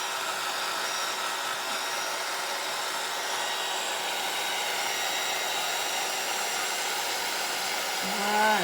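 A heat embossing gun blows steadily for crafting, a loud continuous whirring hiss with a motor whine, unbroken throughout and alone, with a slight rise at the very end.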